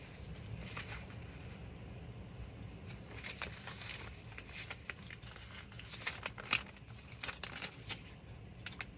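Sheets of sheet music and piano roll paper are shuffled and handled, giving soft crinkles and papery rustles in uneven bursts close by, with one sharper flick near the end and no speech.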